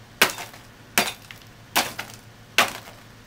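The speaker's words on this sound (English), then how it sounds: "Bubba's breaking coal for Dad" A child swings a hammer to break pieces of coal, giving four sharp, cracking strikes at a steady pace, each followed by a brief splintering rattle, close up with no talking.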